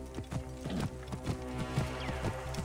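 Horse hooves clip-clop in Assassin's Creed Origins: a quiet, steady walking rhythm of hoof strikes over a soft background bed, with no talk.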